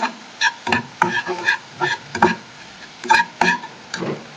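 Repeated scraping and clattering of a utensil stir-frying vegetables in a pan for chicken momo filling, in irregular strokes over a soft background sizzle.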